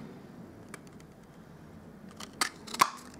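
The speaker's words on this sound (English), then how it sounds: "I'll just punch out one more balloon if I can fit it in" A handheld paper punch cuts a balloon shape from cardstock for a watercolor card, giving a few sharp, close clicks and crunches near the end after quiet handling.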